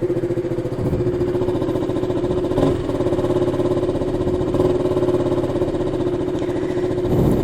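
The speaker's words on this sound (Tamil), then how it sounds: "நான் ரெவ் பண்ணி காட்டுறேன்." A KTM Duke 200 motorcycle engine runs close by at a steady idle, with brief blips of revving rising and falling a few times over the continuous mechanical drone.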